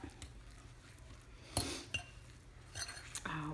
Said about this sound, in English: I'm just going to get a fork and mix this up.